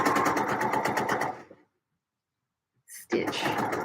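A sewing machine stitches around a corner of a McCall's M7537 garment, running in a dense rapid burst that stops midway, then after a short pause starts up again just as loud.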